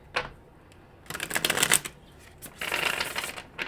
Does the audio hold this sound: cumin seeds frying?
no